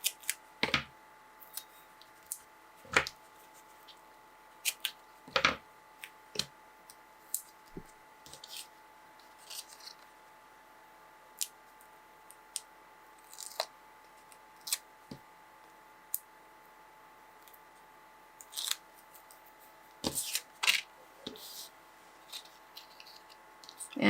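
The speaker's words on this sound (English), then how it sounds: "Add some no-stick scissors here," No-stick craft scissors make a few sharp snips and clicks while cutting foam tape for a paper card, in quiet surroundings with short gaps between the cuts.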